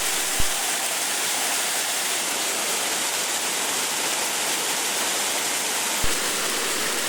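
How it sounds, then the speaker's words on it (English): Clear spring water crashes steadily from a waterfall into a pool in the Rockies, a loud, continuous broadband roar with two faint knocks. "I'll go down and get under the waterfall down below. That water comes crashing down so hard that it actually stings when it hits you."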